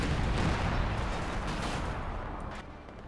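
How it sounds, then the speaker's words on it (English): A grenade blast in Company of Heroes 2 opens with a loud, broad boom that decays into a rumbling battlefield din of scattered distant shots. "Up, grenade going off."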